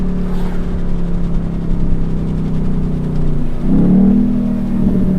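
A Ford Mustang GT V8 with a 10-speed automatic holds a steady low drone, then rises in a short, louder rev as it drops a gear, heard from inside the car with no talking.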